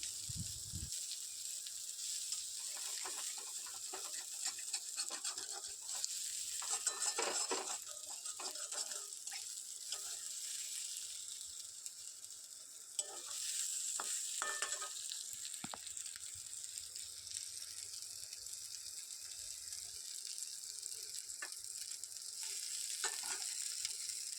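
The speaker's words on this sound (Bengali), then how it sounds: "তো চিংড়ি মাছগুলো আমি ভেজে নিয়ে তুলে রেখে দেবো।" Shrimp frying in a pan of oil give a steady, dense sizzle that lasts throughout, with occasional louder crackles and stirring scrapes; no one speaks.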